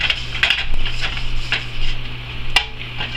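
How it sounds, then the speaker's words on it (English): Spatula scraping and tapping against a pan while spreading oil up its sides, a few sharp metallic clicks over a faint sizzle and low hum, close by. "I'm also using a spatula. And what I like to do is I like to start by spreading the oil up the sides of the pan."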